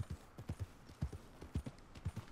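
A horse walking in Red Dead Redemption 2, its hooves clip-clopping in a steady, even rhythm on the ground, fairly quiet and close, with no talking.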